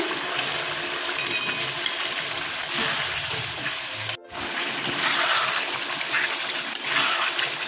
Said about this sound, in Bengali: মশলাটা কষানো হয়ে গেছে, আলুগুলো দিয়ে দিচ্ছি।